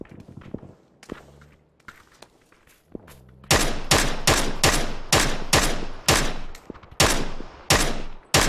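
Rapid gunfire erupts in the battle royale game PUBG: a few scattered footsteps and isolated shots first, then a loud, steady burst of repeated close-range shots fired in quick bursts, with no one speaking.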